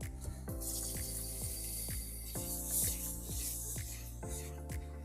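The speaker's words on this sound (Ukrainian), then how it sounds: "Рис потрібно промивати в холодній проточній воді." Steady rushing hiss of cold tap water running over rice being rinsed in a bowl or sink, with a continuous close-up splash and no voices.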